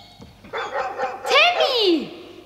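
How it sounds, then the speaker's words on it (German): A dog barks near a tent camp, a few sharp yelping barks followed by a rising-then-falling whimpering yowl, fairly close and clear over faint background. "Ach, das ist bloß ein Hund."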